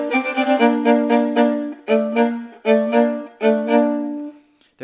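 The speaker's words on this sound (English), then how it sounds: "the first line is complicated because they're double stops, so it actually sounds like this" A viola plays double stops in an excerpt from Mendelssohn's Midsummer Night's Dream Scherzo, giving a close, solo run of bowed two-note chords in short repeated phrases with brief gaps between them.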